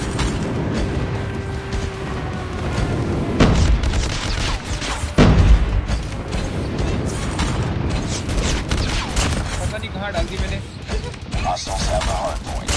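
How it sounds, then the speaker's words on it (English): Airstrike explosions in the mobile shooter Call of Duty Mobile, deep booming blasts rumbling through a dense, loud mix of gunfire and battle noise, with heavy thuds near the middle. "Friendly airstrike incoming."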